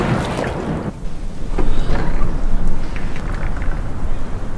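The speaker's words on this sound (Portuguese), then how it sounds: "Tá chovendo pra todo lado." Heavy rain pours down in a dense, loud, continuous hiss and patter, close and steady with no voices over it.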